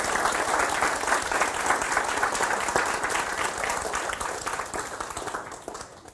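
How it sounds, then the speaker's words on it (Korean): A lecture audience applauds in a long, dense, sustained wave of clapping that stays full and steady before thinning slightly and tapering off at the end. "여러분이 거기에 동의를 하시면은 엄청나게 박수 치셔야 됩니다."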